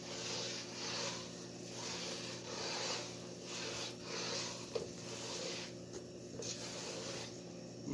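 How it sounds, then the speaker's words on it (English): A utensil scraping the bottom of a pot of cooking roux for crawfish and shrimp étouffée, a soft, steady rasping in repeated strokes, quiet and close, with no talk. "Make sure you scrape that bottom."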